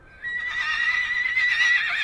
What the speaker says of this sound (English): he was calling to them every couple minutes with these very lonely, powerful kind of horse whinnies and neighs